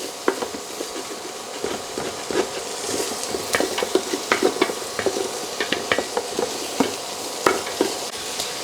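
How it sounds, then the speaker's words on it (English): Onions frying for Burmese chicken curry crackle in a hot pan while a utensil stirs them, with sharp scraping clicks and clatters popping irregularly over a steady sizzle, close and fairly loud. "onions are just about ready. You want it kind of translucent."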